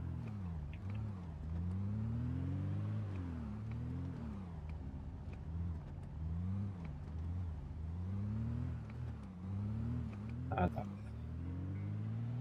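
A car engine in Project Zomboid hums and revs in repeating rises and falls as the vehicle drives, steady and close throughout, with a brief clatter near the end.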